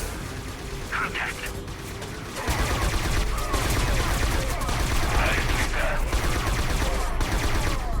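Sustained automatic gunfire from a video game, Scourge Outbreak, loud and continuous through most of the stretch, with a quieter lead-in before the shooting intensifies and rolls on without break.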